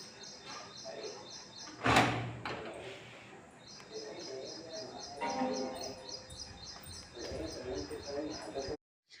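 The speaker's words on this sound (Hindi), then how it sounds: "दरवाजा बंद कर देते हैं।" A door is pulled shut in a home with a single sharp thud early on, followed by faint birdsong, a steady high-pitched hum and soft background voices.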